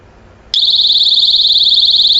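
A loud, piercing high-pitched tone from a door and window vibration alarm starts abruptly and holds steady, with a slight rapid pulsing, continuing without pause.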